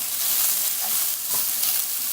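Food sautéing in a pan for Mexican red rice, a brief close steady hiss of sizzling oil with a couple of soft stirring knocks.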